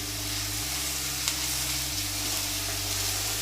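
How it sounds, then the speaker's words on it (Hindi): Onions fry in hot oil over a high gas flame, giving off a steady, even sizzle with a low background hum and no talking. "गैस हाई फ्लेम पे रखकर इसको हल्की गुलाबी कर लेते हैं प्याज को"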